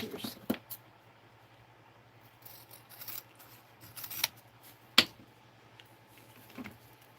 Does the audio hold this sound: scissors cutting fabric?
yes